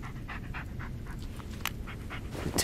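Bullet the dog from the video game Blair Witch pants steadily and rapidly, a close run of short breathy puffs with no talking.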